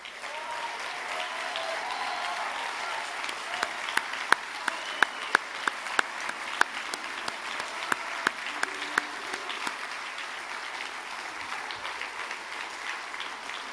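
A gala crowd at a veterans' charity salute event gives sustained applause and an ovation, steady dense clapping with sharper individual claps standing out, lasting the whole stretch without speech.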